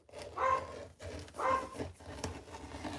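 Dogs barking in a home sewing room during fabric cutting with a rotary cutter, two distinct barks about a second apart, then fainter noise and scraping, fairly close.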